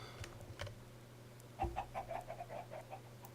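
A flock of chickens in a Minecraft village clucks in a quick series of short, faint clucks after a soft thump, over a low background hum.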